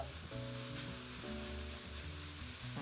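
Cauliflower with minced onion and garlic, butter, salt, pepper and cumin sautéing in a pan, giving a steady soft sizzle that runs evenly throughout with a low hum beneath.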